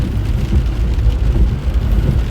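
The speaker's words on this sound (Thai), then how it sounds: "อากาศหนาวมาก ฝนตก ฝนตกนะคะฝนตก" Rain falls during a drive to work on a cold day in Belgium, a steady dense hiss and rumble of rain and road noise heard from inside the car, with no voices.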